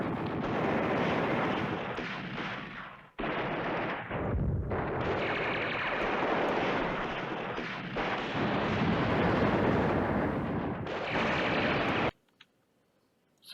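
Bombing and artillery fire in the WWII strategy video game Command Ops 2, set at Arnhem, a continuous loud rumble of explosions and gunfire with brief gaps before it cuts to near silence.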